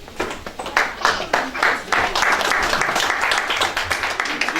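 An audience at a convention hall claps and cheers steadily, with a dense, lively burst of applause and voices mixed through it.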